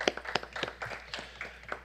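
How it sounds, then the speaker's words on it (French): Scattered handclaps from a small group at a city council meeting, a brief patter of separate claps that stays light and uneven rather than swelling into full applause. "on peut leur donner une main d'applaudissement"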